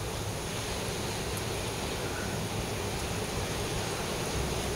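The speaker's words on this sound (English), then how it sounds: "The winds have really, really increased in the last 15 or 20 minutes." Strong wind blowing near the surf, a steady broadband roar with no breaks, moderately loud and alone.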